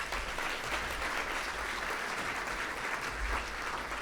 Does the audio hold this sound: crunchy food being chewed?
no